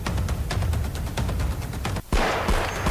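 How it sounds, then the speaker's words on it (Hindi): Border Security Force soldiers set off fireworks at Diwali on the international border in Jaisalmer district, Rajasthan. Rapid crackling bangs run continuously and loudly, broken by a brief gap and then a denser burst. "आतिशबाजी भी की।"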